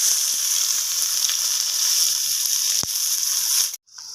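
Chopped onion and whole cumin with spices frying in hot mustard oil, a loud steady sizzle that carries on without a break and then cuts off abruptly near the end.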